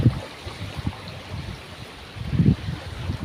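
A small village stream in the Konkan flows with a low, steady gurgle and trickle of water, close and continuous, swelling slightly near the end.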